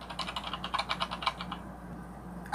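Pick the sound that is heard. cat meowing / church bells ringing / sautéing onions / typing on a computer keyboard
typing on a computer keyboard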